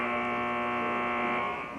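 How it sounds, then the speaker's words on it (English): A basketball game clock buzzer sounds in a gym during a 1990 girls' high school game, one loud, steady, harsh electronic blare that holds unbroken for nearly two seconds before starting to fade. "The buzzer sounds to indicate that time's about to start."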